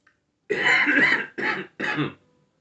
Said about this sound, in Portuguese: Estou com uma tosse.